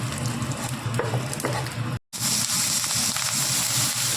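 Fenugreek seeds, dried red chillies and curry leaves frying in hot oil for a rose apple pickle give a close, steady, crackling sizzle that drops out briefly partway through and then resumes.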